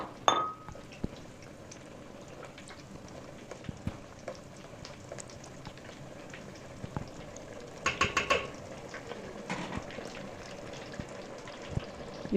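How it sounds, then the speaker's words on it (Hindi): Mung dal frying in hot oil, a steady soft sizzle and bubbling with occasional clinks of a utensil against the pan, fairly quiet and continuous. "उसके बाद मूंग की दाल फ्राई करती हूँ।"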